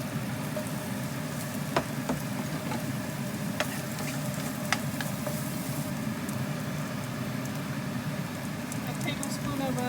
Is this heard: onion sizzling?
yes